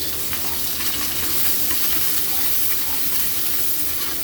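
Ginger, garlic and onion frying together in a pan for adobong isaw, giving a steady, dense sizzle with soft crackles and steam hiss that runs unbroken and close throughout.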